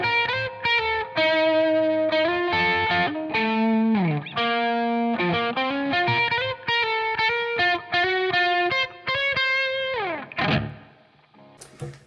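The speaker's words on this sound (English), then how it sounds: "I'm actually using the harmonic minor here, so the lead line he's talking about sounds like this." Distorted electric guitar with effects and chorus plays a lead line in harmonic minor, phrased in quick runs and bends that ring up close, ending in a brief noisy tail.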